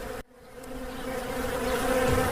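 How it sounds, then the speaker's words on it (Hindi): A swarm of honeybees buzzes in a dense, continuous drone that swells steadily louder after a brief dip at the start, with no voices. "घर पहुंचकर बुढ़िया ने जैसे ही वह बोरा खोला, उस पर सारी मधुमक्खियाँ चिपक गई।"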